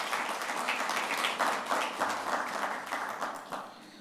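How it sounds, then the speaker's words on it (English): Audience applause for the speakers at a budget impact analysis event, a dense, continuous clapping from a room full of people that carries on evenly for several seconds. "A big round of applause for the speakers and all of us."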